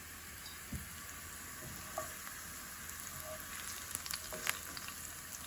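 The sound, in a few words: garlic and red chili flakes frying in olive oil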